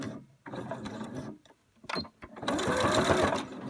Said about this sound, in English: So I just sew over it again.